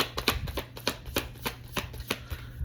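Tarot cards are riffled and shuffled by hand, a rapid series of crisp papery flicks and slaps in an uneven rhythm, close and fairly loud, with no talking.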